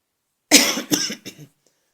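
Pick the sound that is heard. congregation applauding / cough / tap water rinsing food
cough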